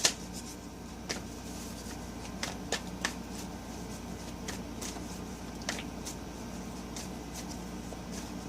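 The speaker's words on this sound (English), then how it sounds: "I don't usually shuffle on camera." Cards being shuffled close by, with a string of sharp riffling clicks and snaps over a quiet room hum, no voices.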